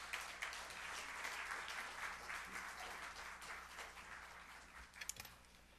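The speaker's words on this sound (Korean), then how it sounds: "박수 한번 보내시면서 목사님 말씀" Church congregation applauding during an afternoon worship service, a steady wash of many hands clapping at low level, with a few sharper claps near the end.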